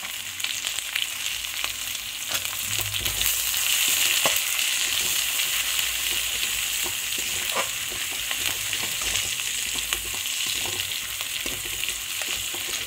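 Chopped onion and green chili frying in a pan for a Malabar spinach (pui shak) chochhori: a steady, dense sizzle runs throughout, with occasional stirring clicks and scrapes and no talking.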